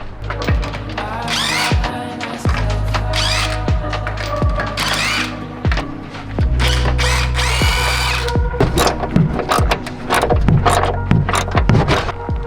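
A loud, close power tool whirs and rattles in repeated bursts while loosening suspension bolts on a BMW E46, with clanks of tools and metal parts between runs.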